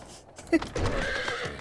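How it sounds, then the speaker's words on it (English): A horse in the Final Fantasy XIV video game lets out a short, bright whinny, followed by a longer rising neigh with clip-clop hoofbeats beneath it, fairly close and clear. "my horse didn't like that I jumped off the roof."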